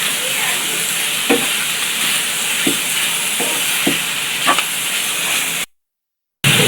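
Chopped chicken sautéing in a pan with garlic and onion, giving a steady close sizzle and hiss with a few soft stirring clicks, cutting to silence briefly near the end.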